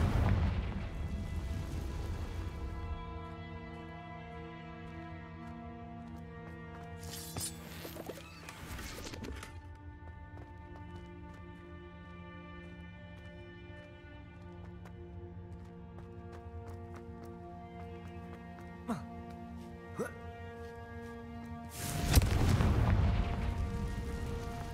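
Blasting-spell explosions in the wizarding game Hogwarts Legacy, sharp bursting booms that punctuate a steady sustained musical drone, with a louder, fuller blast near the end.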